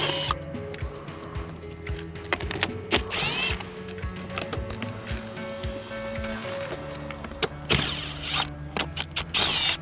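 Rapid ratchet clicks come in short bursts as the upper plenum bolts on the intake manifold of a 2011-2020 Dodge Caravan 3.6L are loosened, close and fairly quiet, with metallic creaks between the bursts.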